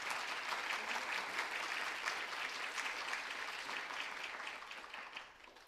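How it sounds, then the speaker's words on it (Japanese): An audience at a high school student summit gives a steady round of applause before a presentation, a dense, even clapping from a sizable room, fairly distant and soft, tapering off at the end. "拍手をお送りください。"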